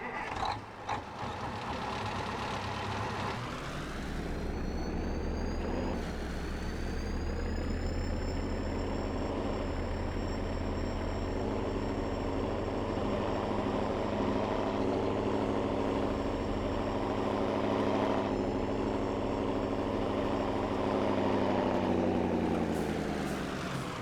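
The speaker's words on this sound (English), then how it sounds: "we definitely have a much louder tractor" A 1980s John Deere tractor engine in Farming Simulator 22, a loud, steady diesel drone with a rising start that then holds a continuous, even tone and a harmonic whine on top, alone with no talk.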